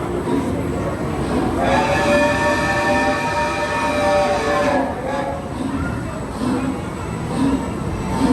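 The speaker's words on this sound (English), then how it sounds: "This will be the next train now." A theme park ride train pulls in at Universal Studios, its long sustained horn-like tone sounding over a loud rumbling roll that continues steadily after the tone fades, amid crowd noise.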